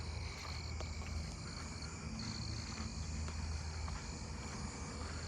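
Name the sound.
southeastern field crickets chirping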